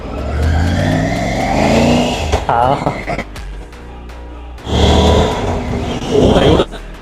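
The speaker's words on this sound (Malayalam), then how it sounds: "ആദ്യമായിട്ട് ട്രയംഫ് 900 ടൈഗർ 900 ഓടിക്കുവാണ്" A Triumph Tiger 900 motorcycle on a short test ride, its engine droning and rising in pitch through a couple of revs, with a rider talking over it and road noise throughout.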